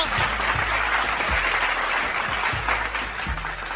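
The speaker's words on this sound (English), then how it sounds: "Can we give him a nice round of applause out there?" Steady audience applause for a guest in a studio livestream, a dense continuous clatter of many hands with a repeated low thumping underneath, holding at an even level throughout.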